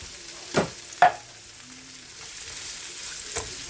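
Soft sizzling of onions and mushrooms frying in a pan, broken by a few sharp clinks and scrapes of a utensil stirring, with a faint background hum.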